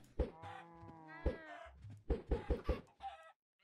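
Minecraft chickens cluck in short, soft bursts inside a video game, a quick irregular series of clucks and squawks with small gaps, quiet and alone.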